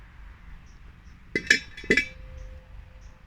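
An uruli cooking vessel is set down in a Kerala kitchen while preparing fish head curry, giving two sharp metallic clinks close together and a faint lingering ring afterward in an otherwise quiet room.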